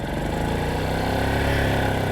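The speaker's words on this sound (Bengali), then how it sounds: "রেসটা তুলে এক নিয়মে ধরেন" A motorcycle engine held at raised throttle, a loud, continuous, close-up drone that stays fairly even throughout with no talk.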